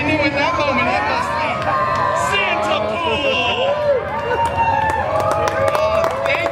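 A large crowd cheers and claps at a Deadpool holiday storytime show at Disneyland, with steady broad crowd noise, scattered shouts and whoops, and voices raised throughout.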